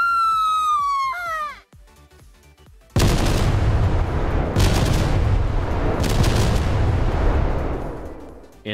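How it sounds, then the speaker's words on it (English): A falling whistle, then a rapid series of heavy airstrike explosions from a Minecraft WeaponMechanics gun plugin, with a dense, continuous rumbling blast that keeps booming for several seconds. "you can see that I put down the airstrike"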